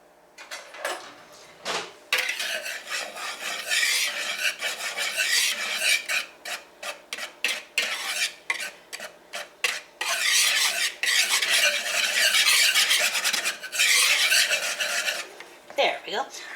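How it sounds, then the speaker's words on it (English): Wire whisk scraping and rasping against a plastic mixing bowl while ingredients are mixed, a loud, steady run of fast rhythmic strokes with short pauses between bursts, no talking. "sometimes that whisk against this plastic"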